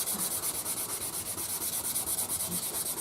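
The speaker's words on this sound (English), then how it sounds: "go over it, keep checking your sandpaper, do little bits at a time" Sandpaper rubbed by hand over a bass guitar body being refurbished, a close, steady series of rapid back-and-forth scratchy strokes in an even rhythm, heard alone.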